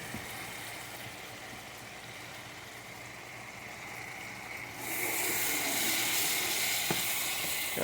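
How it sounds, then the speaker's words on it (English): Meat sizzling steadily in a pot on a stove while making Nigerian vegetable and okra soup, a continuous close hiss that swells louder and brighter about midway. "So we're gonna allow it to cook up a little bit, and the meat is steaming pretty."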